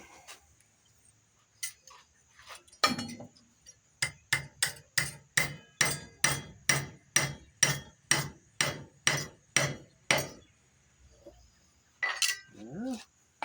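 Steel being tapered with a hammer while forging a Bowie knife: a steady run of about fifteen sharp, ringing metal blows in quick even rhythm, close and loud, after a few scattered strikes.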